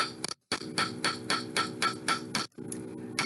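Steady, evenly spaced hammer blows on a metal bangle seated on a mandrel, each strike a bright ringing clink, close and loud, about eight in a row with a brief pause near the start and a gap near the end.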